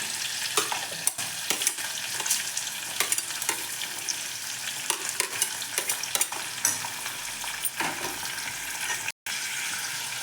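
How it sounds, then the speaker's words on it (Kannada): Onion and capsicum fry in a pan for capsicum bath, a steady crackling sizzle broken by frequent scraping stirs and clattering spoon strokes. "ಸ್ವಲ್ಪ ಈರುಳ್ಳಿ ಫ್ರೈ ಆಗಬೇಕು ಹಾಗೆ ಕ್ಯಾಪ್ಸಿಕಮ್ ಕೂಡ ಹಾಕೋತಾ ಇದ್ದೀನಿ"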